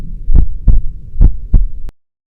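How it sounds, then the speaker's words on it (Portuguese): Four deep, throbbing heartbeat thumps sound at a steady pace over a low hum, loud and close, then they cut off abruptly into silence. "meu coração batendo descontrolado"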